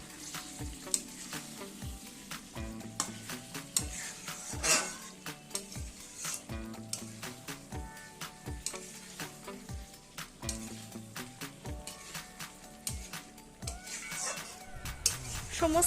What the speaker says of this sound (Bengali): সমস্ত কিছু আমি ভালোভাবে নেড়ে নিয়েছি